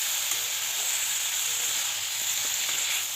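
Ginger, garlic and onion paste frying in a pan for a Bengali broad bean curry, a steady, bright sizzle with a continuous hiss and faint stirring, close and even, with no talk.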